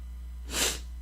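A single sharp sneeze bursts out close to the microphone indoors, a brief loud burst against a low steady hum.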